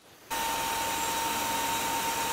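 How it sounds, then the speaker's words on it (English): Fuel pump of a Nissan President car switching on after a brief quiet moment, then a steady continuous electric whir and hum with a fixed whine, heard close and unchanging. "Yeah, that fuel pump switched off before"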